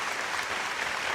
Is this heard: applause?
yes